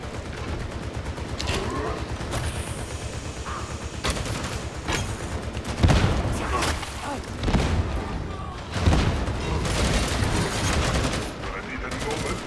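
A grenade bursts with a heavy boom amid steady gunfire in Warhammer 40,000: Darktide, with several strong thuds standing out over the ongoing combat and voices speaking throughout.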